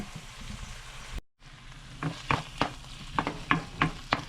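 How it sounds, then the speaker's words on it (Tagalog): Pechay leaves sautéing in a pan, with sharp, evenly spaced clicks and scrapes of stirring over a faint sizzle, after a brief silent gap near the start. "Yan, nagigisa na tayo. Isang-gisa lang tayo."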